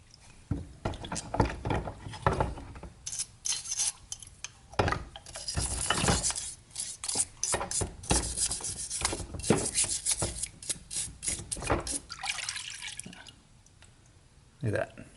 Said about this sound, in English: Alright, stuff's been soaking overnight. Let's see if it did anything. I hope it did, but time to scrub away.